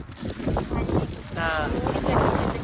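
Strong wind buffets the microphone on a hilltop at Palakkayam Thattu, a steady roaring rush under people talking close by.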